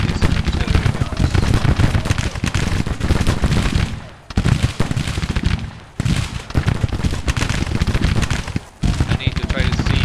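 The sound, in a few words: artillery cannon fire in the video game Grand Tactician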